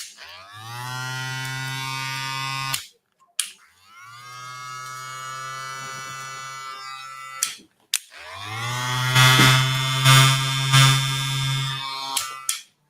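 Electric hair clippers from Wahl and Stylecraft hum in three separate runs with clicks as they switch on and off, the last run louder and wavering, no voices.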